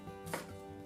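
A single knife chop cuts through long beans on a board, one short crisp thud in a quiet kitchen.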